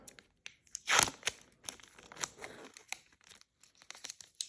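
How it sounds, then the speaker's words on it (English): Crinkly plastic tearing and rustling close up as an eyelash-extension wrap package is opened, a sharp rip followed by scattered small crackles and crunches. "Open up the magic wrap."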